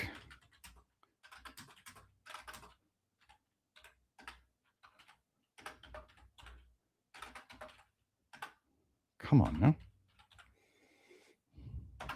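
Scattered bursts of computer keyboard typing, light clicking taps in short irregular runs with pauses, mostly faint, plus one louder thump near the end; a brief spoken phrase occurs.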